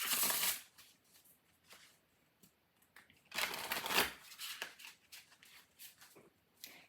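Cards from a spellcasting oracle deck being shuffled, with a loud riffling burst at the start and a longer one midway, separated by quieter handling sounds.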